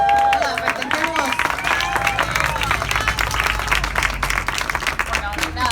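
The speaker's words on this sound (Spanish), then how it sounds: "Ese aplauso." Applause from an audience at a book presentation, a steady dense clapping with a hum of crowd chatter and a few voices rising through it, filling the room throughout.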